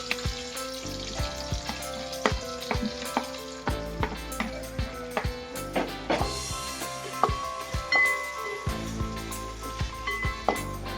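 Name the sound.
onions and green chillies frying in pan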